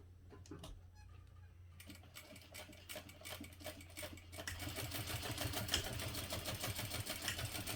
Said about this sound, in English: I just always sew across these a few times to really secure that, since there will be weight on these seams